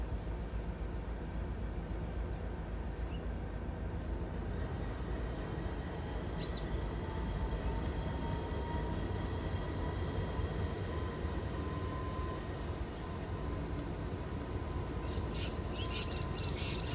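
The Overland passenger train to Melbourne pulls out of the platform at Keswick, a steady low rumble of rolling stock and engine noise held at a constant level throughout, with faint high squeals and clicks from the wheels.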